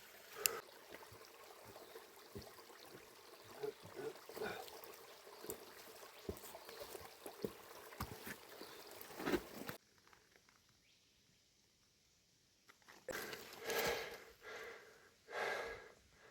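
Creek water rushes and trickles steadily over rocks in rough off-track hiking terrain, with close breathing and scuffing movements over it, then drops away to near quiet before louder splashing and rustling return near the end.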